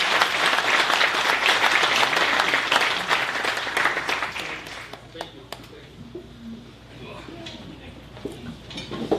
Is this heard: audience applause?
yes